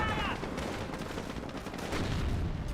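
Rapid anti-aircraft cannon fire from a Bofors gun in Company of Heroes, a steady stream of thudding shots under a dense battle din with other gunfire, fairly constant and mid-distance.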